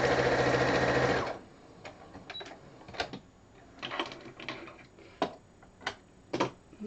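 A sewing machine stitching quilt binding runs in a steady loud burst at first, then gives way to scattered ticks, clicks and light handling noises close by, without talk.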